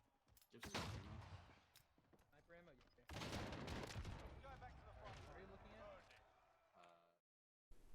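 Dual Desert Eagles fire in the Warzone GULAG, a Nuketown-style map in the video game: rapid bursts of pistol shots and other gunfire under someone talking, with dense exchanges before a brief silence.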